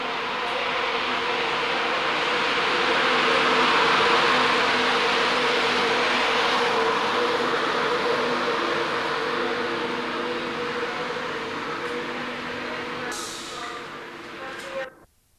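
A train arrives into platform 4 at Newark with a sustained rumbling, hissing roar that swells and then gradually fades before ending sharply.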